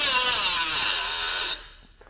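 A Milwaukee M12 FUEL cordless quarter-inch straight die grinder spins at high speed against metal, a loud whining grind for about a second and a half before the tool pulls away and the sound drops off.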